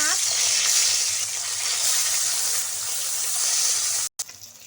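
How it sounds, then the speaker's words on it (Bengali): Tilapia fish fry in hot mustard oil with a loud, continuous sizzle and crackle that holds steady for several seconds before a brief cut. "এবার মাছগুলো আমি তেলের মধ্যে দিয়ে দেব"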